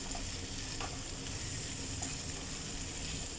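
Ground beef loaf mixture frying and being stirred in a pan, with a steady close sizzle throughout and a few soft scrapes from the stirring.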